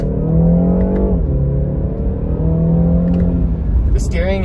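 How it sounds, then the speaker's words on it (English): A BMW 330i engine rises in pitch as the car accelerates on a cold road, a steady close drone with harmonic whine that dips and climbs again. A brief higher rising tone near the end. "we're gonna be able to put the pedal to the metal just a little bit"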